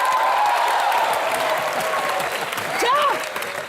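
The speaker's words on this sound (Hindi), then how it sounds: "एक बार जोरदार तालियां हिमेश जी के लिए।" A studio audience on a Hindi TV comedy show claps loudly for Himesh, sustained clapping, with a brief whistle or whoop cutting through near the end.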